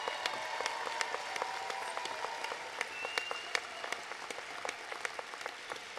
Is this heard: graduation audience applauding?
yes